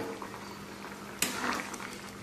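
A Bengali fish curry with stems and bitter gourd bubbles in a pot, a steady close boil with one sharp clink partway through and a brief louder burst of bubbling afterward.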